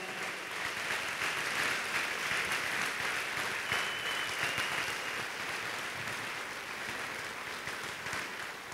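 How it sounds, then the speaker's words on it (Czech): A large audience applauds steadily, a dense wash of clapping that holds throughout and eases slightly toward the end. "poprosím ešte o jeden veľký potlesk"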